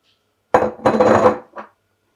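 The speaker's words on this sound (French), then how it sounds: "Je rajoute mon sucre." A loud ceramic scrape and clatter as sugar goes into a large bowl of flour for African beignet batter: one sharp knock, then a longer grinding rattle of spoon and granules against the bowl, and a brief final tap, close and alone.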